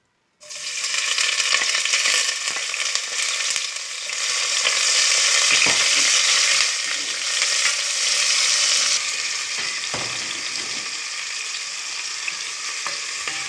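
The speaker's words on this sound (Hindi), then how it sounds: "अब मैं इसमें प्याज को फ्राई कर लूँगी।" Onions sizzle and crackle steadily in hot oil in a pan while apple gourd sabzi is cooked, with occasional stirring scrapes, fairly loud and close, with no talking.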